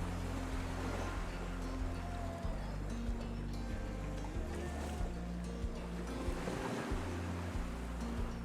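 Surf rolls in on Clearwater Beach, Florida, with waves washing and breaking in a continuous wash over a low, rumbling wind buffet against the microphone.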